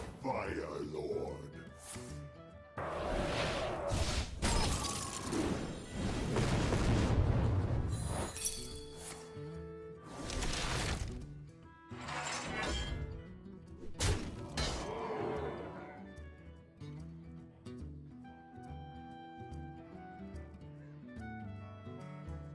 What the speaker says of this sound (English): There's one of the fireballs.